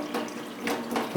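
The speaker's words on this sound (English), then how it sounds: "There's so much value in having running water in a sink" Water runs from a tap into a sink in a soft, close stream that rises in short surges, quiet and with no one speaking.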